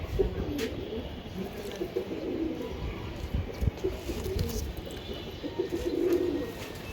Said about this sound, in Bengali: এই যে এটা একটা নর কবুতর তাই না দাদা